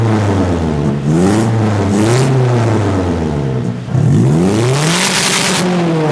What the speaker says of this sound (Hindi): इसका एग्जॉस्ट नोट काफी लाउड है